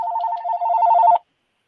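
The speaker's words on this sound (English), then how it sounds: "My home phone's ringing real quick." Home telephone ringing, a fast warbling electronic trill heard close and loud in one burst before cutting off into silence.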